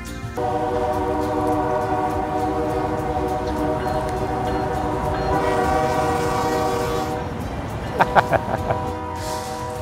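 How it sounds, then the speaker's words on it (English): A train passes close by with a loud sustained rumble and a long steady horn blast, ending with a few short horn toots near the end. "I love the trains."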